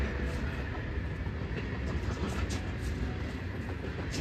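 A long train rolls steadily past outdoors, a dense continuous rumble with faint clicking of railroad cars filling the whole stretch, loud and close with no voices.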